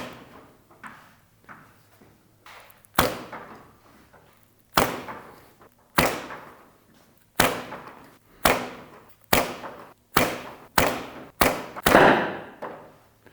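Arrows strike a straw archery target in a series of about a dozen sharp, loud thuds, spaced irregularly and coming faster toward the end, each with a short decaying tail.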